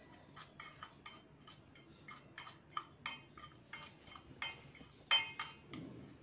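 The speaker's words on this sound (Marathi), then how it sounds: "छान मिक्स करून घ्यायचं" A spoon clinks and scrapes in a bowl while biscuit powder, baking soda and milk are stirred together, giving a sequence of quiet, irregular taps and scrapes up close, with no talking.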